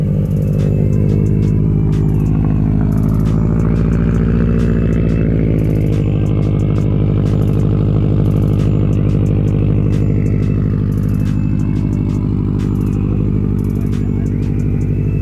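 Subaru STI with a Stage 2 upgrade idles loudly and continuously, a deep throbbing exhaust rumble close by, steady throughout with slight waver as the idle settles.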